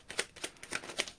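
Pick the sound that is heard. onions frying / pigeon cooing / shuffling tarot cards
shuffling tarot cards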